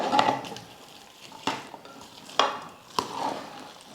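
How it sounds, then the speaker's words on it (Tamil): A spoon works through pongal after the tempering goes in, making soft mushy stirring with a few distinct clinks against the pot, spaced roughly every second, close and fairly quiet. "தாளிச்சது சேர்த்ததுக்கப்புறம் பொங்கல் வந்து நல்லா கலந்து விட்டுடுங்க"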